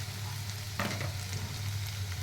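Bell pepper curry with turmeric, salt and spices being stirred in a hot pan, a steady close sizzle and frying hiss with a brief scrape of the spoon partway through.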